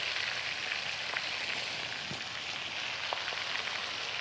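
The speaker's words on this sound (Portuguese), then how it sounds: "Vamos deixar dourada a cebola também." Onions browning in a pan give a steady, even sizzle of frying with a few faint scrapes and ticks under it. Nobody speaks.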